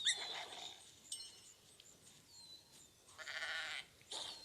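Several short, faint bleats from a sheep in a video game, spaced apart with quiet gaps, over a soft background hiss.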